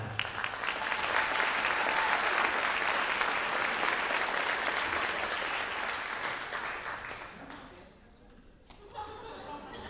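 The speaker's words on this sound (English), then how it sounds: "one round of applause for Natalie" Audience applause for Natalie at a high school spring band concert fills the hall, a dense sustained clatter of many hands that swells, holds, then thins toward the end as a voice speaks.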